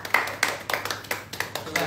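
A small group of people clap their hands in a quick, lively burst of about a dozen sharp, close claps, with no voices over them.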